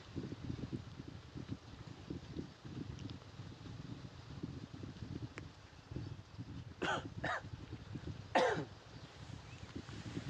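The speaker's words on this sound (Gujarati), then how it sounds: "ઉધરસ આવી ગઈ છે" Three sharp coughs close to the mic at a temple, two quick ones and then a louder one, over a steady outdoor background.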